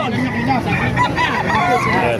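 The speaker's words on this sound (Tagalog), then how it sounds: "Pakaraming manok ngayon dito sa Kalumpit oh." Roosters crow and chickens cluck at a poultry market in Calumpit, Bulacan. Several close, overlapping crows with clucking run continuously over a busy background.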